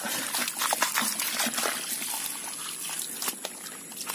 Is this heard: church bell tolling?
no